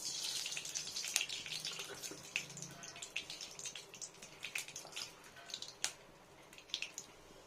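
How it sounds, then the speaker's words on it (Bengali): Mustard seeds splutter in hot mustard oil for tempering, a quiet sizzling bed broken by many quick irregular pops and crackles, close by and fairly faint. "এটা হচ্ছে সর্ষে ফোড়ন"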